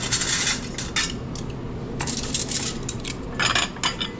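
Silverware and real plates clink and clatter at a hotel breakfast at the Fairfield by Marriott in Revelstoke, BC, as a string of light, scattered metallic taps and chimes with no one talking.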